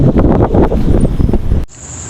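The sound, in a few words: strong wind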